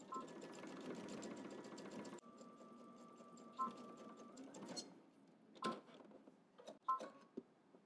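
A sewing machine stitches a seam with a short steady burst of whirring, followed by a lighter mechanical hum, then scattered clicks and handling sounds as it stops.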